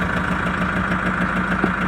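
The engine of a Bandit 990 wood chipper runs at a steady idle, a continuous close, loud mechanical drone with an even vibrating hum and no talk over it.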